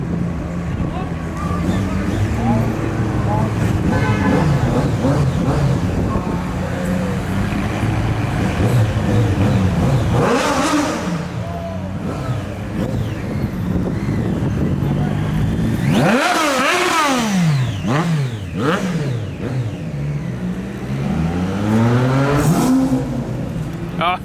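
A Lamborghini Aventador SV's V12 engine revs repeatedly at a car show, loud rising and falling blips with sharp roaring surges near the end, while people talk nearby.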